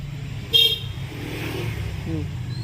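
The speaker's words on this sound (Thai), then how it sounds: "เสียงแตร" A single short car horn toot sounds loud and near, then fades into a low background hum with faint murmuring.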